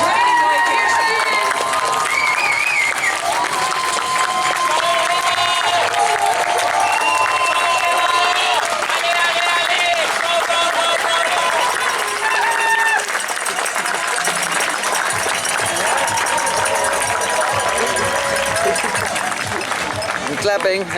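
Spectators cheer and applaud for an Ironman 70.3 World Championship athlete at the finish area in Lahti, Finland, a sustained crowd roar with clapping under loud music and an announcer's voice throughout.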